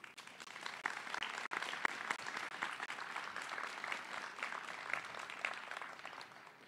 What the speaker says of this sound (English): Please join me in recognizing and applauding their efforts.